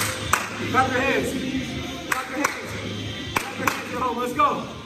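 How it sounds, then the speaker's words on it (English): Sharp hand claps ring out at intervals during a high-intensity step workout class, punctuating an energetic instructor's voice and background music. "Clap your hands."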